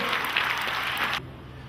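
Audience applause at a book concert talk show, a dense steady clatter of many hands clapping, which stops abruptly partway through, leaving a quiet room hum.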